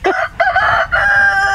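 A rooster near Silkie chickens crows loudly and close in a single full call of rising and sustained segments, lasting just over a second.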